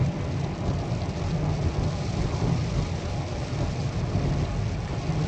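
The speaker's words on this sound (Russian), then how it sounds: "Погода изменилась. Начался дождь." Heavy rain pours steadily in a forest in the Oregon mountains, with low rumbling thunder rolling continuously underneath, loud and close with no voices.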